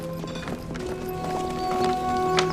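Horses clip-clopping over ground in a drama scene, a busy, continuous patter of hooves at moderate distance amid ambient noise.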